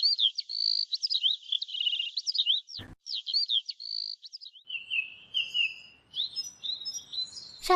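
Myna birds call in a run of high, warbling chirps and trills, close and fairly loud, with short pauses and a brief sharp knock in between.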